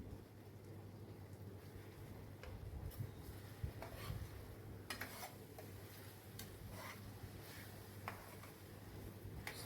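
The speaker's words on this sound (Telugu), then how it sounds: "శుభ్రంగా కలుపుకుందాం. టమాటాలు, ములంకాయలు బాగా కలిసేటట్టు." A spoon scrapes and clacks through tomatoes and aubergines cooking in a pan, quiet irregular stirring strokes over a soft continuous sizzle, no one speaking.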